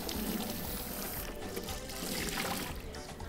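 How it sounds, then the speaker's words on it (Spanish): Water pouring steadily over potatoes being washed in a kitchen, a continuous splashing rush with a brief trickling quality, fairly close and unbroken throughout. "Entonces ahora sí vamos a darles una lavadita."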